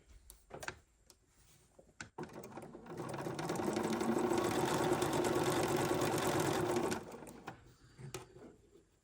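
A Bernina sewing machine stitches quilt pieces in one steady whirring run of about five seconds, close and fairly loud, framed by soft clicks and handling of fabric before and after.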